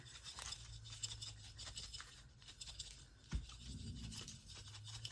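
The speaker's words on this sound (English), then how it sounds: "Now let me just grab myself a lid and mix vigorously." Spices rattle and rub as they are shaken vigorously inside a closed 800 ml jar, with faint, steady scraping and shuffling close by.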